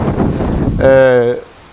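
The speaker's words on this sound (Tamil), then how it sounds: "நம்ம குற்றாலத்தில் அடிக்க காற்றை பார்த்தீங்கன்னா அப்படியே தள்ளுதுங்க, ஆளே தள்ளுது." Strong gusting wind at Courtallam roars steadily across the microphone, loud and close, while a voice talks over it.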